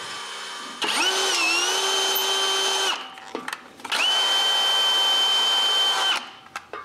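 A power tool threads holes for compressed-air filters on a homebuilt CNC machine, giving two loud sustained whirring runs of about two and two seconds, each rising as it spins up, with a short pause between.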